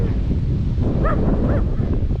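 A dog barks and yips a couple of times at a rural fishpond, its short calls rising over steady wind noise on the outdoor microphone.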